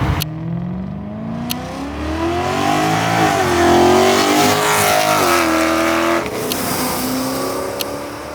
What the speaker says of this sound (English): This is the full titanium exhaust for the E92 M3.